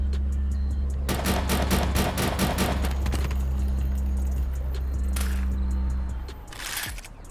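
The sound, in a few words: gunfire from guns in GTA VR video game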